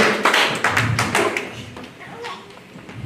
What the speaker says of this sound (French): Applaudis le Seigneur pour ça